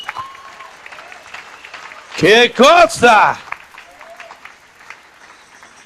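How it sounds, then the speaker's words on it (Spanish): A church congregation applauds in the background, moderate and continuous, while a voice breaks in with a loud, drawn-out exclamation in the middle. "Denle un aplauso a Jesús, aleluya."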